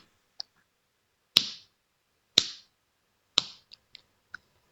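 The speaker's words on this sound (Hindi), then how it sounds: "तभी पीछे से किसी के ताली की आवाज बजती है" Slow, sharp claps used as a sound effect in a Hindi audio drama. Three loud, crisp claps ring out about a second apart, each with a short echo, among a few fainter clicks, in otherwise quiet surroundings.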